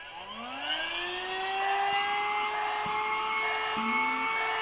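A Beldray Revo BEL0944SL handheld vacuum cleaner runs steadily with a high, rising motor whine that settles into a loud, constant drone, with a few clicks along the way.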